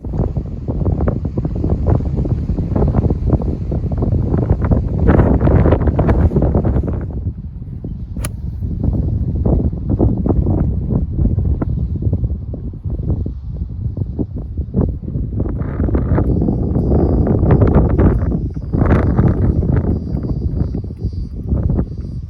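Strong, gusty wind on a golf course buffets the microphone in loud, continuous roaring rumbles that surge and ease for over twenty seconds, with no voices.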